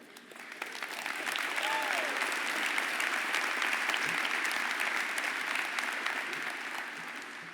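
A crowd at the VFW Armed Forces Award ceremony honoring Admiral Michelle J. Howard applauds in a broad, sustained wave of clapping that builds, holds steady and slowly tapers, with a faint voice briefly audible early on.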